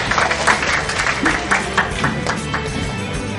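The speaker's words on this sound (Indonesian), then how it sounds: "Kita beri tepuk tangan buat Dedi Kanalata." An audience at a parenting seminar claps for a speaker being introduced, a brisk, crowded patter of hands that runs evenly through the moment under a faint murmur.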